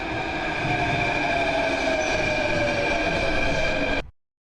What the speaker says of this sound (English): what is going on with this train?